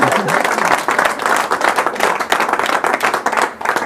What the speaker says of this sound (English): bow to your thunderous applause